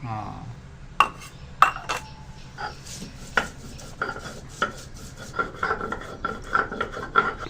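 Fresh ginger ground by hand into a smooth, creamy paste, with repeated scraping, rubbing strokes and sharp knocks in an uneven rhythm, close by, while a person talks.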